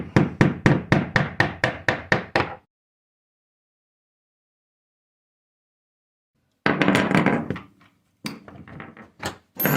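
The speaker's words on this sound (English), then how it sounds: "you just pound in, pry it up, and then just start pounding it up." About a dozen sharp, rhythmic hammer strikes ring out close up as a metal hinge pin is driven out of an interior door, then silence, followed by a few more scattered knocks and taps.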